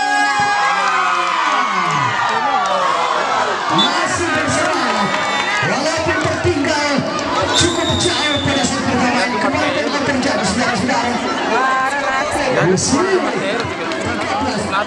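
Crowd of supporters cheering and shouting at a women's volleyball final between village teams, a dense, loud, continuous roar of voices with children's shrieks throughout, and an announcer talking over it.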